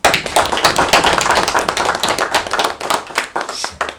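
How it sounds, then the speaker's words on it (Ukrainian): Council members at a Ukrainian extraordinary session clap in greeting, a close, loud burst of individual claps with distinct sharp strikes that keeps going for about four seconds and tapers slightly at the end. "разом із вами ми його привітаємо оплесками"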